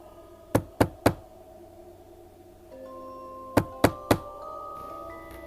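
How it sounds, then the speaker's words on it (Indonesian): Knuckles rapping on the door of a university thesis supervisor's office: two separate bursts of three sharp, close knocks with a quiet room hum between them. "gua ketok"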